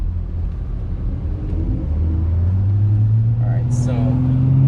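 BMW Z3 2.3 car engine droning steadily while driving, low rumble rising in pitch as it accelerates, loud and close with road noise throughout.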